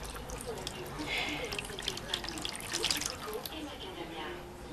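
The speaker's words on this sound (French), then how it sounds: "Dans ce bac, y mettre de l'eau" Distilled water poured into a large tub for marbling paper with guar gum, a soft continuous trickle and splash heard under a woman's nearby speech.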